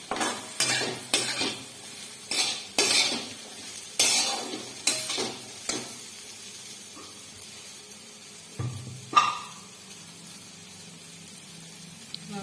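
Crushed peanuts sauté in a pan over a low flame: soft sizzle beneath repeated scraping stirs and light clinks of a spoon on metal, then quieter stretches, no talk.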